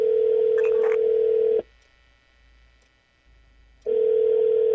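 Telephone ring tone in the video game Shadows of Doubt: a steady electronic tone lasting about a second and a half, a pause of silence, then the tone returning, loud and clear.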